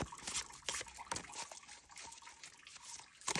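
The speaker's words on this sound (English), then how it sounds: "If you hear that water running in the background, that is my cat purifying fountain." A cat's water-purifying fountain trickles steadily nearby indoors, a soft continuous running-water sound with small gurgles and splashes.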